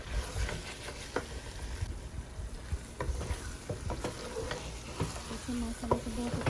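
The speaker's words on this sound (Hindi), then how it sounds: "तकरीबन 3 से 4 मिनट दोबारा से भूनेंगे।" Chicken masala for a bhindi chicken dish is fried again in a pan, with loud continuous sizzling and frequent stirring scrapes and knocks of a spoon close by, with no talk.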